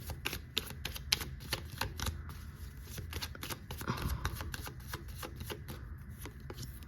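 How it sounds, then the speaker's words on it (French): Tarot cards being shuffled and drawn up close, a fast run of crisp flicking riffles and slaps that continues throughout, with no speech. "Je refais un tirage, je vais en prendre 3 de celui-là et je vais reprendre 3 autres cartes d'un autre tarot."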